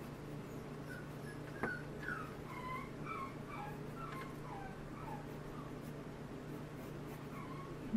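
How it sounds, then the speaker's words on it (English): A grandmother's pet dog whines indoors with a series of faint, high, wavering whimpers repeating over a low steady hum, soft and somewhat distant. "my grandma's dog, she whines every time somebody goes outside without her"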